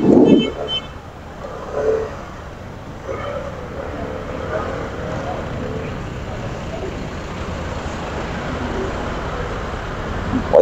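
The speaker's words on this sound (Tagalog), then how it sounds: "Traffic here." Steady road traffic rumble, likely heard from a motor vehicle in the Philippines, runs continuously as a broad wash with a brief louder swell near the start, and faint talk mixes in.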